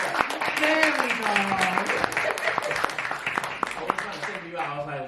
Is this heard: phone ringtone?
no